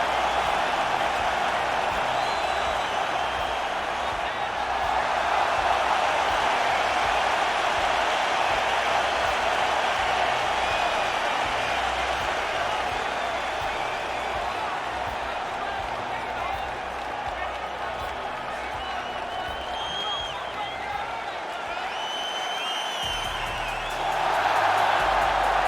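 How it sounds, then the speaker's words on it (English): A loud, steady video-game crowd roars and cheers throughout as a fighter walks out to the octagon in UFC 3 on PS4, with a dense, unbroken wall of noise that swells slightly near the end. "the crowd pops as this guy makes the walk to the octagon"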